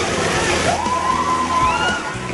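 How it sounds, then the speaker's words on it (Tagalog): Large waves churn and slosh in a storm wave pool driven by a giant bouncing ball, a continuous rushing wash of water with background crowd noise. "Kapag nagsimula na itong gumalaw at tumalbog, humanda na sa mga malalaking alon."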